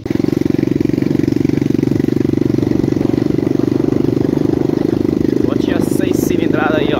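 A mini Honda CRF 100 trail dirt bike engine runs steadily up close, a continuous loud buzzing idle with slight revving toward the end.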